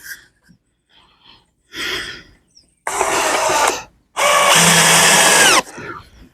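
Power drill driving concrete board screws into wood while a deep brood box is assembled: two loud, sustained whirring bursts of about a second each, after a softer short run, with quiet gaps between.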